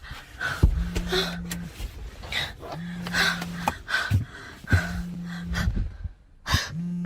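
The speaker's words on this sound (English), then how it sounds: "Bro, why do I hear breathing in my ear?" Heavy, close breathing in a video game with sharp gasps and snorts repeating in a rough rhythm, alongside a recurring low electronic tone.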